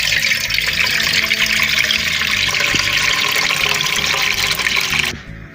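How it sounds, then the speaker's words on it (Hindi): Water pours steadily into a pan on a lit stove, a litre being added for a homemade Rooh Afza syrup; a loud continuous splashing gush that stops abruptly near the end. "अब हम इसमें 1 लीटर जो है वो पानी ऐड कर देंगे।"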